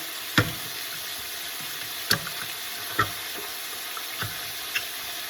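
Veal shank for osso buco sizzles in a pan with a steady low frying hiss, punctuated by a few sharp clinks of a utensil against the pan.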